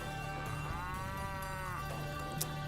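Cattle in Mount & Blade Warband giving one long, drawn-out moo that rises and falls over a steady low background hum, fairly close, with no talk.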